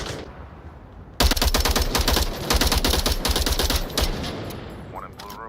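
Rapid automatic gunfire during a Rainbow Six Siege match, a loud close burst of evenly spaced shots that pauses briefly and resumes, then tails off.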